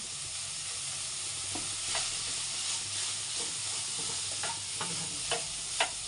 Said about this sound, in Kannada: ಇದಕ್ಕೆ ನಾನು ಮೆಣಸಿಗೆ ಪುಡಿ ಹಾಕ್ತಾ ಇದ್ದೀನಿ